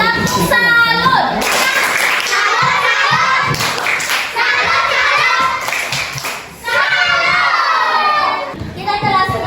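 A classroom of fourth-grade children loudly performing a rhythmic clapping-and-chanting routine together, with shouting voices and sharp claps in quick repeated bursts throughout.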